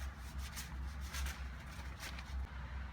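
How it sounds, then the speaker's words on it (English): Soft, rhythmic rubbing of cloth against skin, close by, repeating in several quick strokes like hands being dried with a towel. "apparently, drying your hands is just as important."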